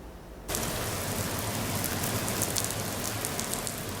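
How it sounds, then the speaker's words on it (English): Steady rain falls in the early morning in Xiamen, China, a dense, even hiss of drops that starts abruptly after a brief quieter moment and continues at a constant level with no talking. "In the early morning, as 8 of the injured travelers return to Taiwan, it begins to rain in Xiamen."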